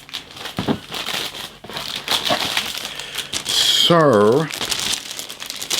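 Cellophane bag holding plastic model-kit sprues for a Kinetic 1/48 F-104G Starfighter is crinkled and unwrapped at close range, with dense crackling bursts, while someone talks briefly and makes a short sung tone partway through.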